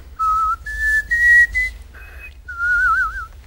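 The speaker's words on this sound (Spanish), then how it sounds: "Sí, porque tú has visto cómo yo silbo." A person whistles a short melodic phrase of several clear, sustained notes with brief gaps between them, close and loud against a quiet background.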